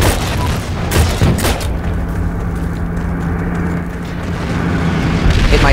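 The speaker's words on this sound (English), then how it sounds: "Oh yes, it hit the mine." A tank hits a land mine in the video game Heroes and Generals. A couple of sharp booming blasts come close together near the start, then a low rumbling tail under continuous battlefield noise.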